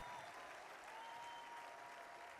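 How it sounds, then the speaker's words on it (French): A congregation at a church service applauds in a continuous, even roar of many hands, fairly distant and soft, with a faint sustained tone running underneath. "Applaudissez pour le Christ"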